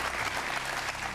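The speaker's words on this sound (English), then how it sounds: "Please don't applaud him because he might sing the rest." A studio audience on the celebrity edition of the UK quiz show Who Wants to Be a Millionaire applauds, a dense, continuous burst of clapping filling the short stretch at an even, fairly loud level.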